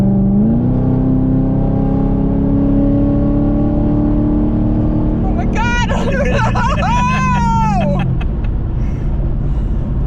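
A supercharged Camaro SS engine hums at a steady high drone inside the car, with a rising whine and bursts of revving midway as voices chatter over it.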